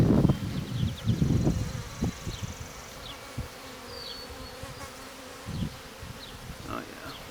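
Honey bees buzz around a new hive being opened for inspection, a steady background drone with individual insects zipping past near the microphone, punctuated by louder rustling and handling knocks at the start.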